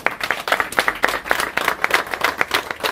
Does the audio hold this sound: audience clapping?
yes